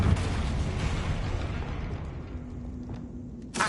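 The Confringo fire spell explodes in the game Hogwarts Legacy, a heavy booming blast that decays slowly into a rumbling, crackling tail, with another sharp hit arriving at the very end.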